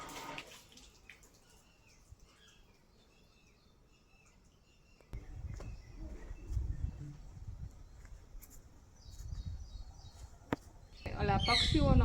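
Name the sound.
birds singing at a temple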